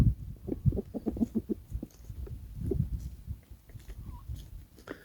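Soft, scattered clucks and peeps from a young chicken, close by, coming in short irregular bursts with some rustling underneath.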